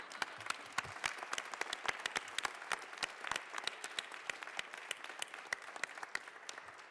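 Many people clap steadily in the Colorado House of Representatives chamber, a sustained round of applause with individual sharp claps standing out against the crowd and no pause.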